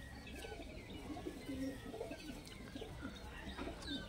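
Pigeons coo softly in a loft, low throaty calls repeating among faint chirps over a steady background hiss, quiet and somewhat distant.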